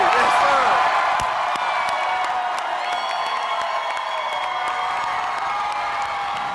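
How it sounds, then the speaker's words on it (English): A crowd at an election night event cheers and claps in a sustained, dense roar, loud and steady at first, then settling slightly while holding on to the end. "Now they're cheering for Sonny Purdue."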